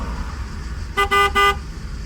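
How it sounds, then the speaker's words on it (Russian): A car horn honks three quick times in a row over steady low traffic rumble near a tunnel entrance in Albania, fairly close and loud. "Что он сигналит?"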